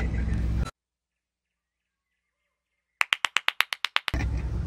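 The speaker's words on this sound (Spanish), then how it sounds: "¡Aplausos!" About ten quick, crisp hand claps in a fast even rhythm, close and clear after a silent gap, framed by bursts of broadband noise before and after.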